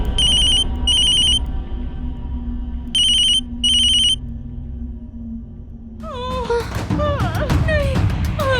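A mobile phone rings in four short electronic bursts, two pairs separated by a pause, loud and close, before other sounds take over.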